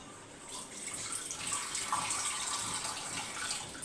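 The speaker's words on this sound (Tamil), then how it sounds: "புளி தண்ணி வந்து கொஞ்சமாக ஊற்றிக்குவோங்க" Tamarind water is poured into a simmering curry of jackfruit-seed and drumstick-leaf kola urundai, a steady close splashing trickle of liquid without speech.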